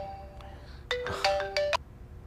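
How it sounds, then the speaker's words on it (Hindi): A phone's electronic ringtone for an incoming call plays a short melodic pattern of bright tones, clear and close, with a brief lull before the tune repeats over quiet room noise. "इस टाइम पे क्यों फोन कर रहा है?"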